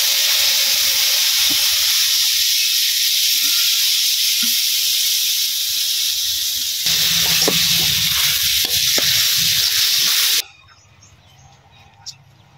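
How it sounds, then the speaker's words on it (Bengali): A masala of turmeric, salt, cumin paste and chili powder fries and is stirred in a pan, giving a loud, steady sizzle with soft scraping for about ten seconds before it suddenly cuts to near quiet. "মশলাটা কষিয়ে নিলাম হলুদ লবণ জিরা বাটা মরিচের গুঁড়ো একসাথে"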